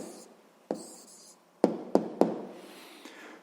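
A pen scratches and taps on paper while the answer to a school physics problem is written down: sparse, separate strokes and clicks in a quiet room, with no talking.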